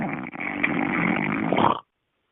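Snoring from someone carried over an accidentally butt-dialed phone call, one long continuous rasping breath with a narrow, phone-filtered tone that cuts off abruptly.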